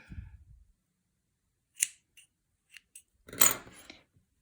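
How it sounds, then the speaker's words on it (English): Scissors snip yarn after a crochet chain cast-on, giving a few short, crisp cuts close by in otherwise quiet surroundings: a single snip, a small tick, then a cluster of louder snipping. "I'm now going to snip my yarn"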